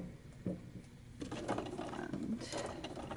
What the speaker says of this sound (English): I'm going to start by sewing on this line